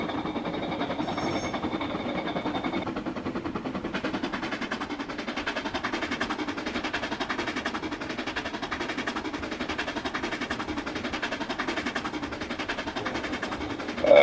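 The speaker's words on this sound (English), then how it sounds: "We have train number 255 passing Nelson Landing." A steady rolling train rumble with rhythmic clattering of wheels on track, continuous and unbroken from start to finish, from the train simulator game Trainz.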